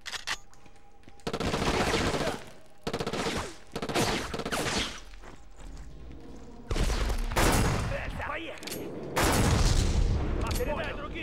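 Gunfire in the PS2 game Black on Hard difficulty, loud bursts of automatic fire and booming blasts in several long volleys with short gaps between them, no talking over it.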